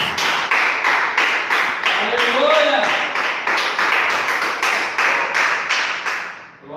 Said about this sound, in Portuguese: Palmas para Jesus, irmãos.